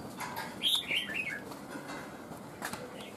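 Caged red-whiskered bulbul lets out a quick run of soft, high chirping notes, then falls mostly quiet with faint rustling as its wings shift.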